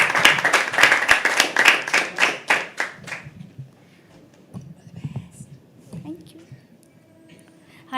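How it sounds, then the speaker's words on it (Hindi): Loud audience clapping at a live poetry open mic for about three seconds, then it fades out into quiet murmurs and faint voices. "ये तालियां बजाते रहे जब तक वो मंच तक ना आ जाए।"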